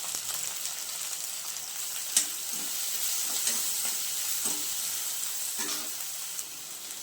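Garlic and dried red chillies fry in hot oil, a continuous close sizzle and hiss broken by a few soft stirring knocks, with no talking.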